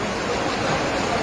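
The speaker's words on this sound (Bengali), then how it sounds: "প্রচণ্ড বেগে পানি ঢুকতেছে।" Floodwater rushes strongly into houses during a flood in Sunamganj, Bangladesh, a loud, steady roaring wash of water filling the whole moment.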